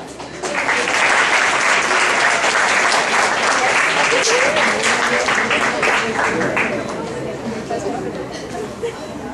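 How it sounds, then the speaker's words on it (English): A large audience at a college convocation claps loudly, a thick sustained wave of applause with some crowd chatter underneath, gradually easing off toward the end. "please applaud a little loudly."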